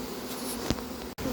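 A swarm of honeybees buzzes in a steady, dense hum after a branch is shaken, close and continuous, with a short thump and a brief dropout near the end.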